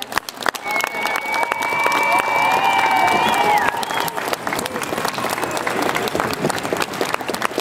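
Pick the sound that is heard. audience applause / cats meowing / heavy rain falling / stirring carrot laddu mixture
audience applause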